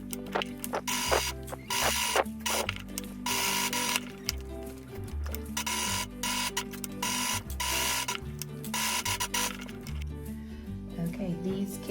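A sewing machine runs a basting stitch along a fabric pocket on a scripture case, its needle chattering in rapid, steady bursts with short pauses between runs, close and clear.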